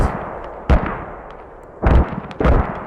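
Mortar fire in a wartime battle video game, three loud booming blasts with a long reverberant tail after the first and two closer together near the end, landing over a low battlefield rumble with no talk.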